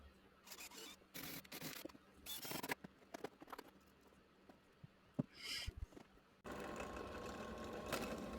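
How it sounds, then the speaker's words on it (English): A cheap Lidl plug cutter bores wooden plugs for a stave side table, its whirring grind running in uneven bursts, then steadying into a continuous louder drone near the end; no voices. "I'm cutting the plugs here."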